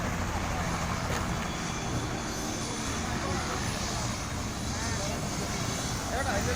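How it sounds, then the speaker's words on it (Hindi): A helicopter arrives to land at Dinesh Lal Yadav's home in Ghazipur, its steady broadband rotor and engine roar filling the scene nearby and loud throughout, with dust kicked up and a voice faintly underneath. "जैसा कि आप देख सकते हैं कि हेलीकॉप्टर आ चुका है"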